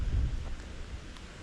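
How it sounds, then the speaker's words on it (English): A low thunder rumble rolls in the distance on a forest hiking trail, a faint, deep swell strongest at the start and fading over a second and a half, with a light background hiss and no talk. "And I hear thunder rumbling in the distance"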